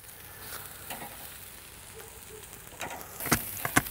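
Pieces of food for shawarma sizzle and crackle steadily on a charcoal grill, close and constant, with a few louder clatters near the end as the pieces are turned.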